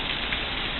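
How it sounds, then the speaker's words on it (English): Hail falls outside in Santa Cruz, a dense, steady patter of stones striking surfaces in a brief, even burst. "hail just picked up again"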